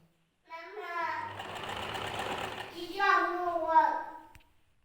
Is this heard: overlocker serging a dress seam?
yes